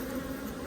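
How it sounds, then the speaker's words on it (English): A dense, steady buzz rises from a swarm of honeybees around a colony exposed among heavy bricks during a removal, a close, continuous drone with no pauses. "There's just so many bees around us."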